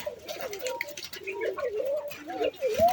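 Pigeons coo in low, rolling, repeated phrases close by, several overlapping calls with no gap in between.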